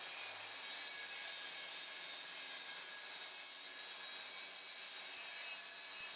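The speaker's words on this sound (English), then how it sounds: "I'll use the Plunge saw and its rail again" A plunge saw running along a clamped rail, cutting wood at a 45-degree angle for a miter joint: a steady, loud, high-pitched whine and rasp that holds unbroken throughout, with no voices.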